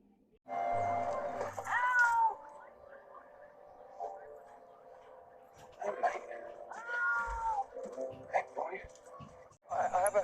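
An orange cat meows repeatedly, several clear drawn-out cries spread across the clip, close and distinct, with short quiet gaps between them.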